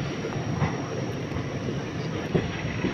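A train rolls into Miraj Junction railway station, with steady rail rumble and faint clickety-clack of wheels heard from on board, moderately quiet and continuous, with a couple of soft knocks.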